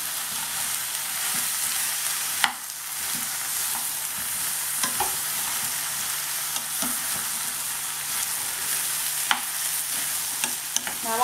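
Chopped onion fries in a pan with a splash of water, giving a steady, close sizzle broken by sharp scraping clicks as it is stirred, with no talking.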